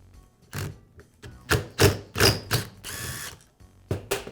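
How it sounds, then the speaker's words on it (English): A screwdriver working out the crankshaft screw inside a Milwaukee reciprocating saw, with close, bursty ratcheting clicks and metallic scrapes in irregular short bursts, one longer grinding rattle midway. "So I'll insert a screwdriver between the counterweight and the connecting rod, and then I can remove the screw."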